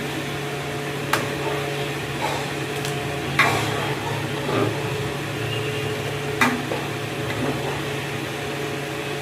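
A pot of biryani cooking as rice is added: a steady, soft sizzling simmer fills the background, broken by a few faint clicks and clinks of utensils against the pot, with no talk.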